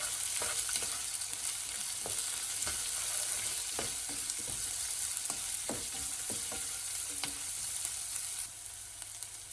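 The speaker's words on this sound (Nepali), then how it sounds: "तेल राखिसकेपछि मेथी, ल्वाङ सुकमेल, खुर्सानी अनि प्याजलाई यसरी राखिदिने र यसरी चलाइदिनु पर्दछ।" Fenugreek, cloves, cardamom, chili and onion fry in hot oil, giving a steady soft sizzle broken by sharp scraping clicks as a spoon stirs the pan every second or so, close and with no voices.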